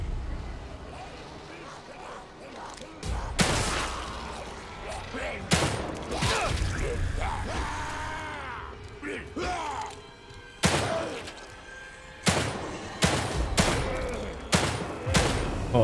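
Bursts of gunfire from the survival horror game The Evil Within 2, loud shots fired in quick clusters with heavy thuds, mixed with game effects and groaning sounds, no speech over the firing.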